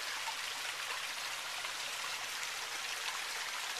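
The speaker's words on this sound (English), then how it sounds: "over here, there's a little babbling brook" A small babbling brook in a desert wetland near Phoenix, Arizona gives off a steady, even wash of trickling water, constant and moderately close with no voices.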